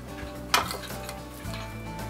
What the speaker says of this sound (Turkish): Ve kaşık yardımıyla bütün malzemeleri harmanlıyorum.